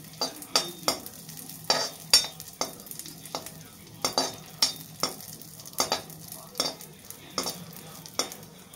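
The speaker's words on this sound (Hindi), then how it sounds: "हम किशमिश को फ्राई कर लेते हैं" Raisins fry in ghee over a low-medium flame, with a soft sizzle beneath a rapid, irregular run of close spoon scrapes and clicks against the pan.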